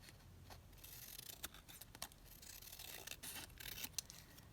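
Scissors cut through paper for paper clip pads in a few quiet, close snips and rustles, with brief bursts scattered over a faint background.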